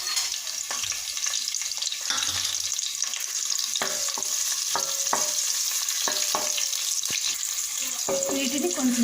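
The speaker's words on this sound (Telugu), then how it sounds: "వీటిని కొంచెం సేపు ఫ్రై చేసుకుందాం" Whole spices including cinnamon, cloves, bay leaf and shahi jeera frying in oil and ghee in a pot, a constant bright sizzle broken by repeated clinks and scrapes of stirring.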